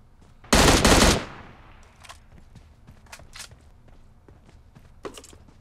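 A burst of rapid automatic gunfire in PUBG Mobile, loud and close, followed by quieter scattered shots and footsteps.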